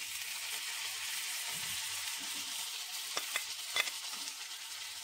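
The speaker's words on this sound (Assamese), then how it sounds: "ৰঙা হৈ যোৱাকৈ ভাজিলোঁ, আৰু এতিয়া দি দিম বিলাহীখিনি" Spices sizzle and fry in a pan before tomatoes go in, a close, steady crackling hiss with a few sharper pops and stirring scrapes near the end.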